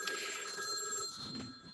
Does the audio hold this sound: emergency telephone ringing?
yes